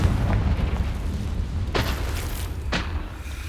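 A Confringo blasting spell explodes in the Hogwarts Legacy video game, two sharp bursts booming over a dense, rumbling game backdrop with no speech.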